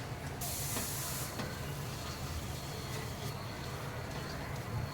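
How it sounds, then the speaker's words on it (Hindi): Flour being roasted in butter in a pan on a gas stove, heard as a steady, close sizzling hiss throughout, with a brief louder burst near the start and faint scraping, and no talking. "मैदे को हम अच्छे से भूनेंगे।"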